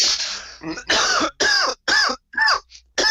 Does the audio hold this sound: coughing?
yes